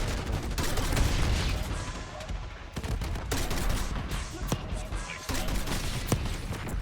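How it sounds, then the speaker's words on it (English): War Machine grenade launcher shots and surrounding gunfire in Call of Duty: Black Ops 6, a string of sharp heavy bangs over a constant roar of battle, loud and close, with voices talking over it. "I am wasting all my war machine shots on it"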